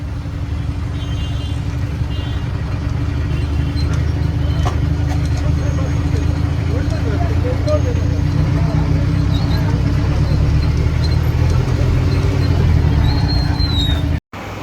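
Interior of a moving lorry on the road toward Surat via Nasik, with a loud steady low engine drone and road rumble throughout, ending in a brief abrupt cut.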